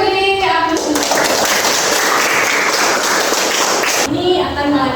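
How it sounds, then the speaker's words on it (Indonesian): A classroom of students claps in a short, loud burst lasting a few seconds. Voices of the teacher and children come just before and just after it. "beri aplaus."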